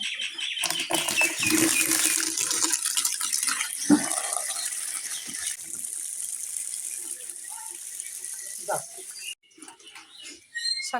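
Water splashing and gushing while greens are washed by hand, a busy close rush of water with rustling and clattering that thins out and breaks off near the end.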